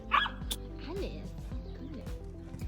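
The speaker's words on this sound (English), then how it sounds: "My dogs were very eager to play" Backyard dogs eager to play let out a series of close yips, short barks and whimpers, excited and uneven, with a voice speaking in the background.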